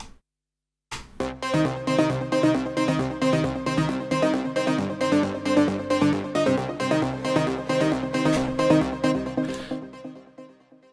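Layered synth leads play a steady, rhythmic pattern of repeated notes stacked in low, middle and high registers, then cut off at the end.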